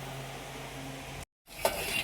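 Leftover rotli flatbread sizzles and fries in a pan as it is tempered, a steady hiss broken by a brief silence, then a sharp stir or clink against the pan before the sizzle resumes.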